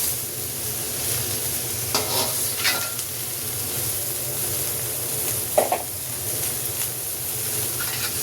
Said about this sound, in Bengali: একটু গাজর দিয়ে দিচ্ছি, একটু পাতাকপি দিয়ে দিচ্ছি।